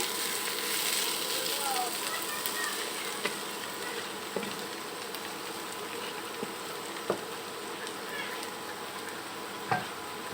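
Radish bhaji frying and being stirred in a pan makes a steady, soft sizzle throughout, with a few sharp clicks of the spatula against the pan.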